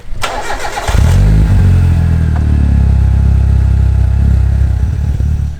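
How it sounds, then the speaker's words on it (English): A turbo Mitsubishi Lancer engine running rich cranks and catches on a cold start, then settles into a loud, steady, rough low idle with no talking. "The thing's running so rich now that it idles really bad on cold start, but it sort of figures itself out, and it's found its idle."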